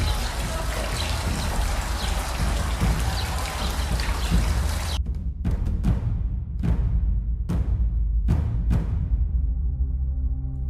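Water trickles and splashes steadily into a stone ablution basin in the orange-tree courtyard of the Córdoba mosque, a continuous close pour that suddenly cuts away, leaving a few isolated drips and clicks.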